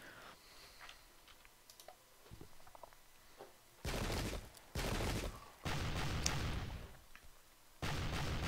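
Musket volleys in the Pike and Shot: Campaigns video game, Battle of Yorkshire: after a quiet stretch of faint clicks, four loud, broad bursts of massed gunfire rumble in succession, each lasting about a second.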